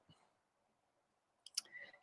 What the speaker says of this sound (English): so for all the notches, I just do a small snip.